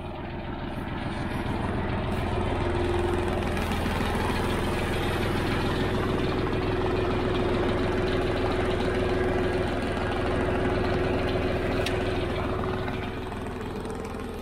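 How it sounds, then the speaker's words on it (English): A new Kubota fertilizer spreader running off a tractor's PTO gives a steady, loud mechanical drone with a churning engine hum that holds evenly throughout, nearby and with no voices. "Now that's the first time I pulled the PTO lever on this spreader."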